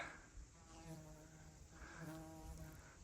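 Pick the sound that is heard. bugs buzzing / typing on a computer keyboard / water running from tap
bugs buzzing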